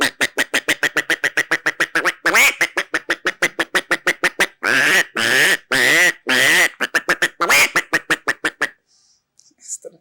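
A voice imitates a duck, giving a long run of loud, rapid, nasal quacks close to the microphone. A few longer, drawn-out calls are mixed in before it cuts off into near silence.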